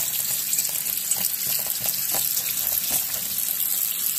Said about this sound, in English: washing the potatoes.